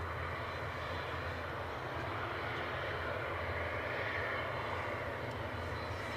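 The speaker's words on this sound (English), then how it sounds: "EasyJet off to Paris Charles de Gaulle." An EasyJet airliner taking off from a windy Edinburgh Airport for Paris, with a steady, broad engine roar heard from a distance that holds constant throughout, with no talk over it.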